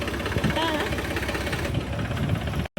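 A tractor engine idles in a levelled farm field, a steady, close, low chugging rumble with a rhythmic knock that runs throughout and cuts out briefly near the end.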